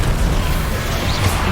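The Incendio fire spell is cast in Hogwarts Legacy, a loud, dense, roaring burst of flame noise lasting about a second and a half.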